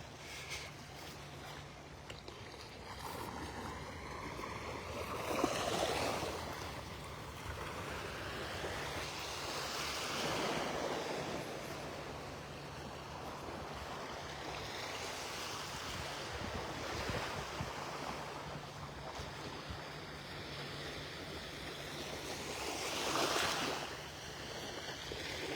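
Calm ocean waves wash onto the beach at Delnor-Wiggins Pass in North Naples, Florida, in soft recurring swells with wind rushing across the microphone, no voices over them.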